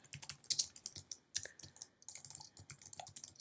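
Irregular bursts of clicks from a computer keyboard as someone types, crisp and close, with short pauses between clusters of keystrokes and no talking.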